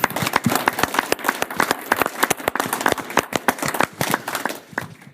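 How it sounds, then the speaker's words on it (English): Scattered applause from a soil health conference panel audience, individual claps distinct and uneven, loud and close, lasting several seconds with no talk over it. "please give her a round of applause"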